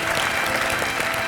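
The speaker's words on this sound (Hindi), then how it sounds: "तालियां पीछे।" On a televised cooking competition set, the studio audience gives a short burst of dense, loud clapping that lasts just over a second, close and continuous.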